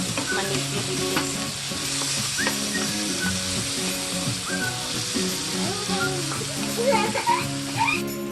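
Vegetables for an omelet, mushroom, spinach and onion, sizzle and crackle in butter in a pan, stirred with scraping utensil sounds throughout, close and steady with light talk underneath.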